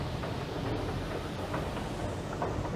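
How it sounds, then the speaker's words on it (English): A westbound subway train in Toronto, heard from inside as a steady, loud rumbling roar with faint rhythmic clacks and no voices. "I'm gonna hop on a westbound train."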